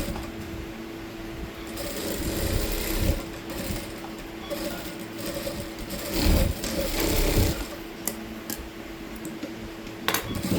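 A sewing machine runs a straight fitting line on a blouse, giving a steady whirring hum with light mechanical clatter that continues throughout, fairly close and unaccompanied by talk.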